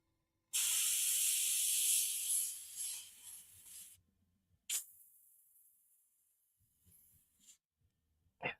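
Airbrush spraying base coat paint onto a Saurian Veteran miniature: a steady close hiss lasting several seconds, then a sharp short burst and a thinner, quieter spray trailing off, ending with a brief puff.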